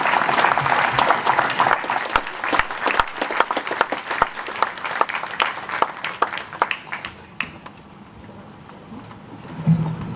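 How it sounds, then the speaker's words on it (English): An audience applauds the German Foreign Minister, a loud burst of many hands clapping that lasts several seconds and then tapers to quiet. "A round of applause for the Foreign Minister of Germany."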